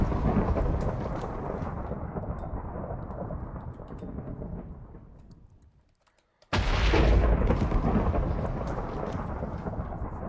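A summoned lightning bolt in the video game Minecraft: a long rolling thunder rumble fades to near silence, then a sudden sharp crack bursts in loud and roars on.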